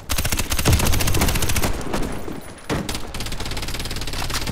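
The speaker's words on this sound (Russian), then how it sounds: "Осторожно, граната!" Rapid gunfire echoing inside a hangar during a shooter firefight, a dense rattle of close shots with a brief lull and a heavy burst where a grenade goes off.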